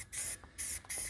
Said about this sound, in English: I'm using the trigger from a Rust-Oleum spray paint